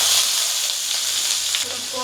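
Chopped onions dropped into hot oil left from frying river prawns, giving a loud, even sizzle and hiss that fades slightly as they settle.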